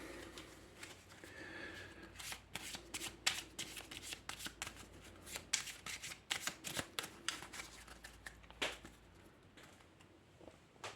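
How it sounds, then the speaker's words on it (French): Cards from the Raxxon board game shuffled by hand, rapid crisp riffling and patting close up, repeated in quick bursts throughout. "je remélange encore"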